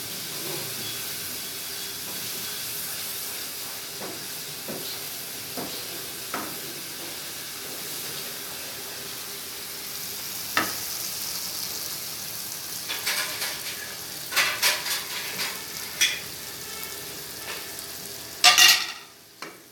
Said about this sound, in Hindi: थोड़ा पानी डाल के मसाले को भूनें।